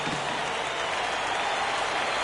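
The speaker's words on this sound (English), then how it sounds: "Crowd gets up for the 3-2." Baseball stadium crowd in a baseball video game, a loud, steady roar of cheering and applause sustained throughout with no talk over it.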